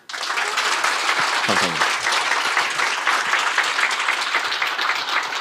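Sustained, dense audience applause fills the room after a quartet's performance, steady and loud throughout, with a brief spoken voice over the clapping.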